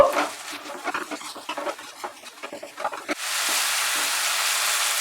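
Grated ginger and chopped tomato frying in a pan at medium heat, with busy scraping and stirring for about three seconds before a steady, loud, even sizzle takes over.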